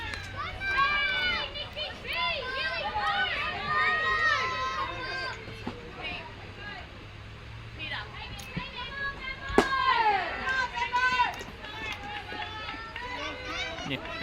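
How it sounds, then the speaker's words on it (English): Two young girls cheer from the sidelines at a women's open softball game, their high, excited voices rising and falling continuously near the field, with other crowd chatter and an adult commentator talking over them. "I can hear Nikki's 2 daughters cheering her on."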